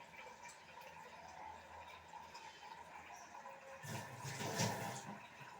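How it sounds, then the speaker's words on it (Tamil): Water is poured into a pot of simmering Tamil-style chicken curry, a splashy gush rising over a steady background hiss and building toward the end of the short stretch. "4 பேருக்கு எவ்வளோ தேவையோ அவ்வளோ தண்ணி சேர்க்குறேன் நான்"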